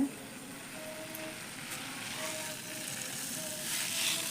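A handheld sprayer mists neem oil onto garden plants such as green chili and ridge gourd vines. It gives a soft, steady hiss that swells slightly toward the end, faint and close, with no talking.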